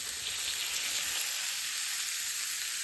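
Unsalted butter, three-quarters of a stick, melts in a hot pan for ribeye, giving a steady, close, loud frying sizzle with fine crackle throughout and no speech.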